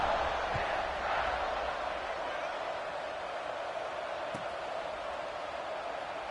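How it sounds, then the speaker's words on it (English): Football stadium crowd buzzing after a touchdown, a steady broad roar of many voices that holds loud and even throughout, with a brief sharp thump partway through. "this crowd is buzzing after that last score"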